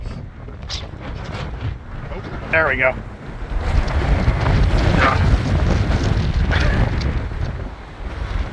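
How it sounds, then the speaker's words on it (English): Strong wind from Hurricane Ian on Cape Cod roars and buffets the microphone throughout, rising in gusts, while a voice speaks briefly over it. "It's crazy windy."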